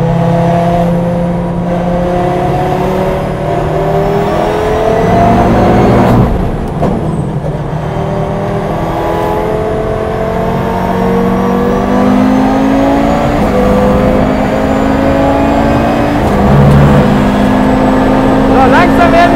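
KTM X-BOW GT-XR race car lapping a track, its loud engine heard from inside as a strong droning note that rises and falls with gear changes and braking, with a sharp shift around the middle.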